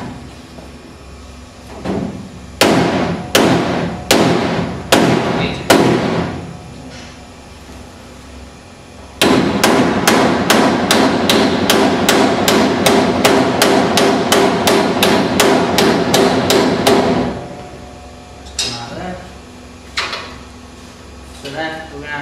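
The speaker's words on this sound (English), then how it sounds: "Just take your soft mallet," A soft mallet taps a car bracket in a series of sharp knocks: a few spaced blows, then a fast steady run of about two dozen, then a few more.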